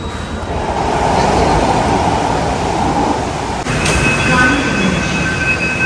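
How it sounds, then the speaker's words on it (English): A metro train moves through a station in heavy rain, rumbling and rolling loudly and steadily, with squealing wheels and a shift in pitch partway through. "So we've just come to the metro station."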